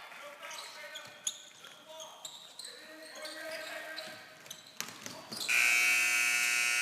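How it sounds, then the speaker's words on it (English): A basketball game-end buzzer sounds loud and sustained after a half-court three-point attempt in a gym, cutting in over arena crowd noise, squeaks and bouncing balls. "Three-point attempt at the buzzer from half court is no good by Paxton."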